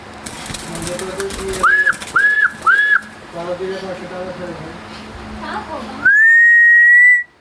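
A myna gives three short rising whistles, then a long sustained whistle, amid people chattering nearby.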